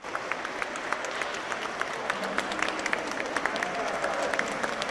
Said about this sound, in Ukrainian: У залі вокзалу прикордонників зустрічають аплодисментами.